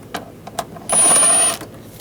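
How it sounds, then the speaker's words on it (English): An 8mm socket ratchet loosens a band clamp under the hood of a 2007-2014 Cadillac Escalade 6.2L V8: a few soft clicks, then a sustained close whirring ratchet spin lasting about half a second. "Using a 8mm socket, we're going to loosen up the band clamp right here"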